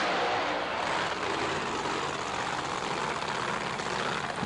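Drag racing engine of Han and Jim Oddie's Blower Drive Services 1937 Chevy, a steady loud broadband roar with heavy low rumble, continuous and fairly close throughout.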